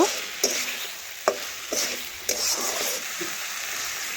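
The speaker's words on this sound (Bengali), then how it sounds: "এখন ভালোভাবে নাড়াচাড়া করে এইভাবে একটুকু মিশিয়ে নিলাম" A spoon or spatula stirs spiced pumpkin curry with added water in a pan, giving close scraping strokes and soft wet sizzling in an uneven rhythm of about five clear strokes.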